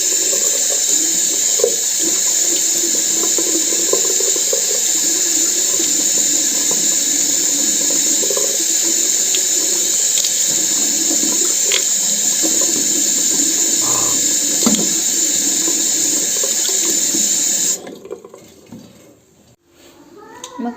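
Tap water runs steadily into a container in a home kitchen in Morocco, a constant bright splashing rush that cuts off near the end; water is being filled for heating to make coffee.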